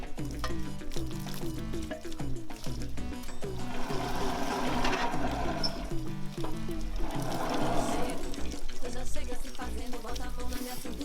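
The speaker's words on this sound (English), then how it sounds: "I'm just gonna take this machine off, take this plate off, and just give the machine a rinse down" Water rinsing down a coffee pulping machine after a Kona coffee picking, a steady loud gush and splash running continuously with fluctuating spray.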